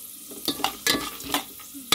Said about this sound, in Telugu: సాజీరా ఇవైతే లైట్గా ఫ్రై అవ్వాలి. శనగపప్పు అయితే గోల్డెన్ కలర్లో రావాలి.